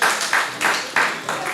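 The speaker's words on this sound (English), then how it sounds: "I feel like that deserves a round of applause." Scattered clapping from a small group at a parish budget consultation meeting, coming in uneven bursts rather than a full sustained roar, fairly close and moderately loud.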